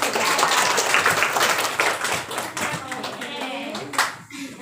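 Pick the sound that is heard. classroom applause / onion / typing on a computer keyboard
classroom applause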